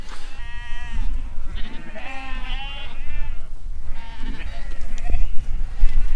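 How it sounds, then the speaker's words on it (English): Several store lambs held back as the last of the batch bleat repeatedly and loudly at close range, their cries overlapping against a noisy farm background while people talk nearby. "This is like the runt of the litter, the last of the lambs, the ones that we've held back"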